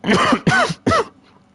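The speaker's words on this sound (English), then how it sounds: "God, the cough." A person nearby gives three harsh, throaty coughs in quick succession, loud and close, each burst separated by a brief pause before quiet returns.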